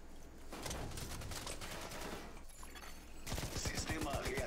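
Gunfire in The Division 2: a sustained burst of rapid shots, a brief lull, then a louder, sharper run of automatic fire near the end, close and dense.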